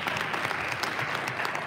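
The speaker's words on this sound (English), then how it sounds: "can we just give them a round of applause for making this happen?" Town hall audience applauding, a steady dense wash of many hands clapping at moderate loudness, sustained throughout without talk over it.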